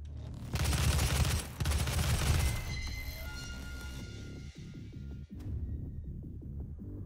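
Gunfire in the video game DOOM (2016): a loud burst of rapid automatic shots for about two seconds, then ringing tails and a few scattered single shots and thuds over a humming game background.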